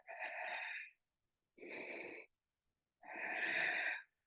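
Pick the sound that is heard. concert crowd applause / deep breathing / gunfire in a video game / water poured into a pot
deep breathing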